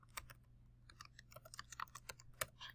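Typing on a computer keyboard while working in Microsoft Word: a quick, uneven patter of soft key clicks with one sharper tap, close up but quiet, and no speech.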